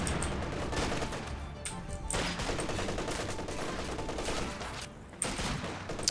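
A flak half-track fires rapid bursts in Company of Heroes 2, the crackling automatic fire dense and continuous amid other battle gunfire, with a brief lull near the end before firing resumes.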